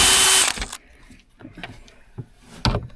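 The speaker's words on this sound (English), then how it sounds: "So we just need to find the other drill, Nicole" A power drill takes screws out of a curtain rail inside a tour bus being stripped down. It gives a short, loud whirring burst, followed by scattered clicks and knocks from the fittings.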